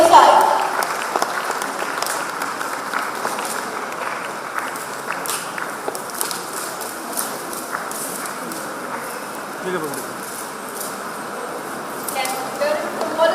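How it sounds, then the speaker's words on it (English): An audience claps continuously at an international conference on digital transformation, Vanijya Parivartana 2025, during a souvenir release. The even, moderate applause runs throughout while people talk over it. "Let us put a round of applause to the release of Souvenir of Vanijya"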